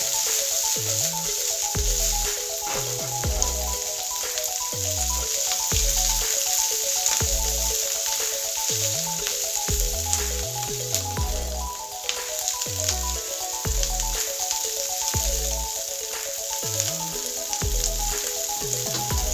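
Shredded cabbage and vegetables fry lightly in a pan, giving a continuous soft sizzle under rhythmic low thumps and background music, with no voices.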